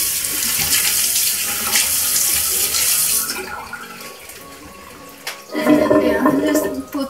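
Tap water runs steadily from a faucet into a sink as hands and face are wetted during an evening skincare routine with an orange cleansing soap, broad and close, with a louder splashing burst near the end.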